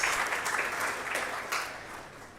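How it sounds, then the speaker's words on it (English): Audience at a ceremony for the WAGMC genomic medicine building breaks into applause, a dense wash of clapping that starts strong and slowly fades over a couple of seconds. "Can we give ourselves a round of applause?"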